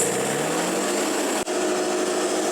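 A Woodmizer LT70 sawmill head whines steadily as it lowers an inch, a loud continuous motor tone with a brief dip partway through.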